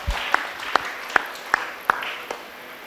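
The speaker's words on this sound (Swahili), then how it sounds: "Pigie makofi Lea." Wedding guests clap for the bride Lea at the ceremony, five or six evenly spaced sharp claps in a slow rhythm, close and distinct, with faint room murmur behind.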